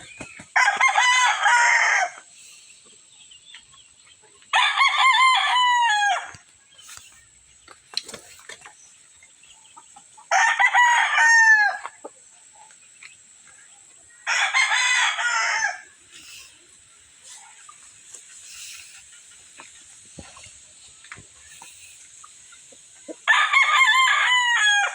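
A straight-comb lemon rooster crows again and again, five loud cock-a-doodle-doos spaced a few seconds apart, with quiet farmyard gaps between the calls.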